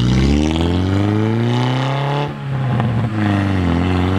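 A car pulling away before a brake-pad test drive, its engine revving up loud and close with rising then dropping tones, a brief dip in the middle before climbing again.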